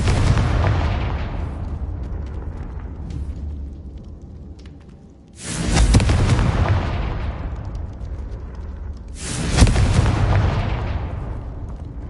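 Confringo explosion spells in the video game Hogwarts Legacy go off as three heavy, booming blasts spaced several seconds apart, each with a long rumbling decay over continuous low game background noise.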